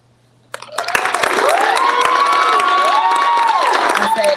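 An audience at a National Grange honors night erupts into applause and cheering, a sudden loud wash of clapping with shouts and whoops that holds steady to the end.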